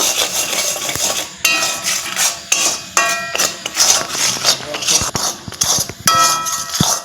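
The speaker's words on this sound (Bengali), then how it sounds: "এখন খুব ভালো করে নাড়াচাড়া করে নিব নাড়াচাড়া করে মিশিয়ে নিব" A spoon scrapes and clanks irregularly against a pot while a raw mango and jaggery mixture is stirred and mixed, with sharp metallic knocks and short pauses between strokes.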